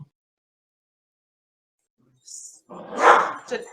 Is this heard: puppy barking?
yes